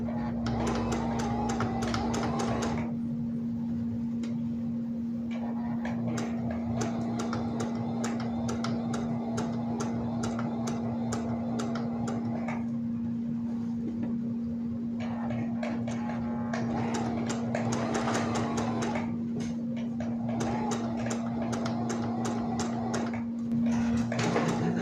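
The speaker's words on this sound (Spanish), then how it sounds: "Vamos a coser al mismo nivel por todo el contorno del sesgo." A sewing machine runs in bursts, stitching at an even distance all around the bias binding of a gathered blouse, with a steady motor hum and rapid needle clatter that stops and restarts several times.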